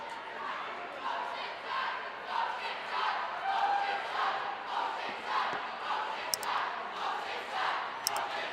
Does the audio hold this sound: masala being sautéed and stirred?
no